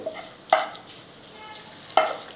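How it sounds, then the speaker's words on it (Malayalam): Rib bones are stirred into a Kerala-style rib curry in a pan, giving two sharp scraping clatters of a utensil against the pot over a faint, steady sizzle, close up. "നമുക്ക് ആ എല്ലൊന്ന് ഇളക്കി കൊടുക്കാം"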